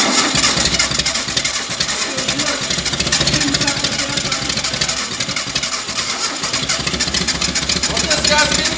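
A forklift's engine cranks and fires up, then runs with a loud, rough, continuous mechanical roar close by. People speak over it.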